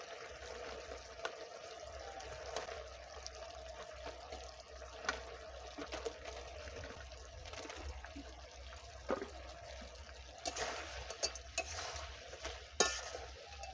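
Fried chicken pieces being stirred into slit green chillies in a frying pan for spicy chilli chicken, a quiet low sizzle with occasional spoon scrapes and clatters, no talk.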